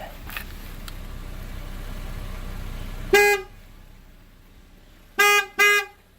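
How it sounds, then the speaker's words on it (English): Three short car horn honks: one, then a pause, then a quick double honk confirming a completed TPMS relearn, loud and close over a low engine hum. "then it should double honk after that saying complete."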